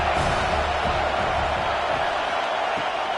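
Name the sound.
crowd cheering in College Football 26 video game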